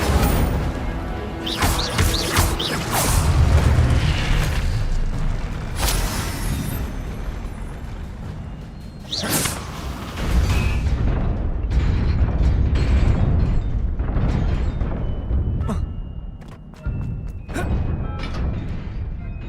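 Incendio fire spell being cast in Hogwarts Legacy, bursts of whooshing flame and crackling blasts repeating in loud waves over a steady game background, with several separate eruptions across the stretch.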